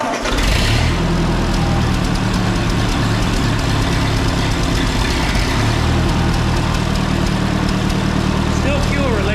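A 1951 Ford 8N tractor engine runs rough with a loud, close, uneven low rumble and a steady throb that continues throughout. Someone talks over the engine noise.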